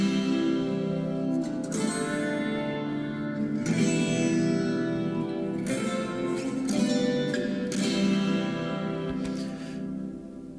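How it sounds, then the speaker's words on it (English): A 12-string guitar run through a phaser effect rings out in a washy, shimmering wash of chords, strummed at a steady pace and heard alone. "I wanted the 12 string to just be a sort of washy"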